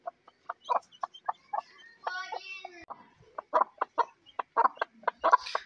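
An Aseel hen clucks repeatedly in short, close bursts with a brief higher squawk partway through, and soft chick peeps mixed in.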